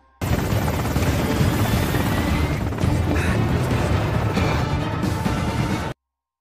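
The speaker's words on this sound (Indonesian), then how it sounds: "Sementara itu, Carla dan David dibawa menggunakan helikopter." A helicopter in an action film rotors loudly and steadily for about six seconds, a dense continuous roar with a few dull bumps and crashes layered in, then cuts off abruptly.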